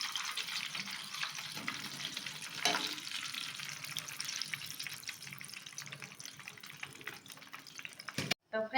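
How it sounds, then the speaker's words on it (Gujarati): Shredded sweet potato for khaman frying in hot oil, a steady bright bubbling hiss with occasional faint stirring clatter, close and moderately quiet, cutting off abruptly near the end. "આ રીતે બધા જ ખમણ હું તળી લઈશ પાડીને"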